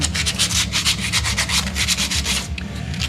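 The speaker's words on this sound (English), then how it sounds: "just kind of hit these pieces with a little sandpaper" Sandpaper rubbed over forged steel J hooks in a blacksmith shop, a close, rapid series of rhythmic scraping strokes with no talk.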